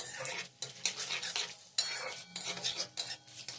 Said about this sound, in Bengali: এবার 30 থেকে 40 সেকেন্ড এটাকে একটু নেড়েচেড়ে ভেজে নিতে হবে।